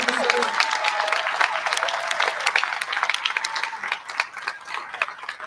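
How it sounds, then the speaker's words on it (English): An audience at an Independence Day naturalization ceremony at Monticello claps steadily for several seconds, a dense patter of many hands that gradually thins out toward the end. "Let's give a round of applause for our"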